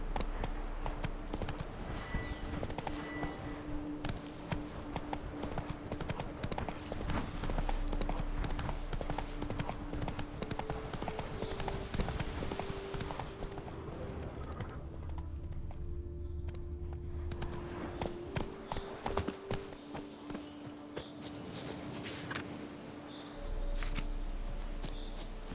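Roach, the horse in The Witcher 3 game, moving at pace with a dense, rhythmic clip-clop of hooves throughout, along with occasional snorts and a soft whinny, with a brief quieter patch midway.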